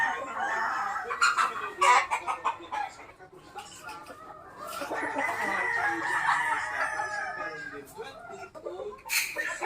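Gamefowl roosters crow and cluck on a small backyard farm, with two long crowing calls among scattered clucks, and a voice talks faintly underneath.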